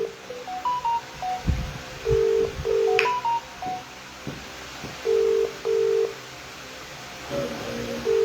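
A phone line plays a sequence of short electronic beeps and dial tones, then repeated paired ringback tones spaced evenly over a quiet line, a telephone ringing on a call.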